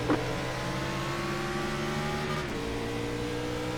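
Race car engines in iRacing's B-Open at Las Vegas droning together at a restart, several steady engine tones layered close, with a sharp pitch drop near the end as one eases off.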